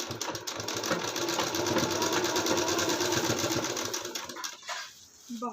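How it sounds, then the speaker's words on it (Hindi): A sewing machine stitching an embroidered blouse, a close, steady mechanical whir with rapid needle chatter running continuously for several seconds before slowing and stopping near the end, with no talking. "इसी तरीके से दूसरे पल्ले का हमने 2-2 सिलाई लगा लिया है"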